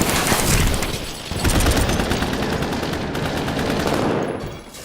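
Dense, loud movie shootout gunfire: rapid automatic bursts and overlapping shots pour out continuously, briefly dipping before surging again and tailing off at the end.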